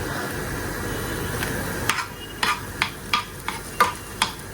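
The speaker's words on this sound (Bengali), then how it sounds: "এখন শুধু একটু ঘি আর ধনে পাতা দিয়ে না নাড়াচাড়া করে নামাতে" Fried potatoes and eggplant being stirred in a pan with ghee and coriander leaves, a low sizzle under a run of sharp utensil scrapes and taps that come in a loose rhythm, close and clear, with no talking.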